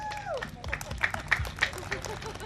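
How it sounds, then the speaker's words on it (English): An audience at a One Day for Kerala campaign event gives a round of applause, with scattered clapping and crowd noise over a few seconds. "a round of applause for you guys as well"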